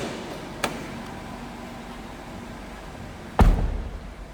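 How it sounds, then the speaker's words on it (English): The door of a 1995 Buick Riviera Supercharged shuts with one solid, close thud near the end, after a fainter knock earlier and quiet background. "Hear how that door closed?"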